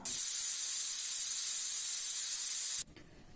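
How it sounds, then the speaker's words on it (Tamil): Steam rushes from a pressure cooker whistle while cooking white chickpeas in a loud, steady hiss for nearly three seconds, then cuts off abruptly. "ஆறு விசில் வச்சு வேக வச்சு எடுத்துக்கலாம்"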